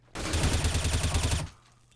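Automatic gunfire in Counter-Strike: Global Offensive, a loud, close, sustained burst of rapid shots lasting over a second, then a quick cut to quiet.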